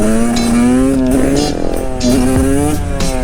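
Two-stroke 125cc road-legal motorcycle held at high revs during a wheelie, a loud, close, buzzing engine note wavering up and down with stuttering dips from misfiring.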